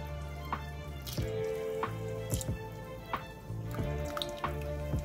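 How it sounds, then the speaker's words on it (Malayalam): Rice flour batter poured into thickened, boiling milk while making mango phirni, heard as steady bubbling and a quiet simmer with soft repeated plops and drips, close and continuous, with no talking. "ഇനി ഞാൻ ഇതിലേക്ക് അരിമാവ് ഒഴിക്കുകയാണ്."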